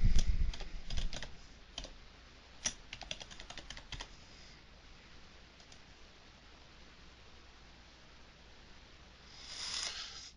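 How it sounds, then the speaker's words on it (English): Someone types a login and password on a computer keyboard in a quick burst of close key clicks that fades into a quiet room hiss, with a short rustle near the end. "So type in your login and password."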